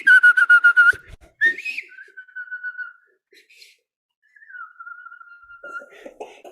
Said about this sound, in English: There's a whistle sound that makes his day.